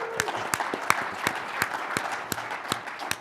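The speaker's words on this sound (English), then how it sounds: "Let's give him a round of applause" Audience applause at a public event, a dense steady patter of many hands clapping with a few sharp louder claps standing out, moderately loud and continuous with no voices over it.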